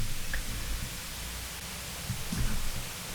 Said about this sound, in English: just white noise.